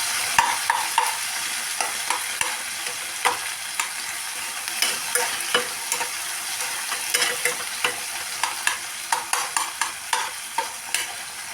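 Onions and tomatoes sauté in a pan for sambar and sizzle steadily while a spoon scrapes and stirs them in quick repeated strokes, close and fairly loud, with no talking.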